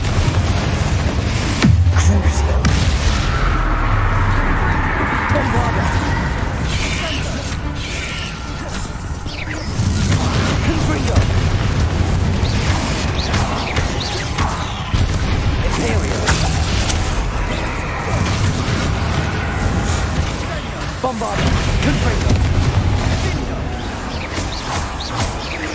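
Bombarda and Confringo spell explosions in Hogwarts Legacy, repeated heavy blasts and crashing impacts bursting over a continuous roar of combat noise, with a voice calling out during the fight.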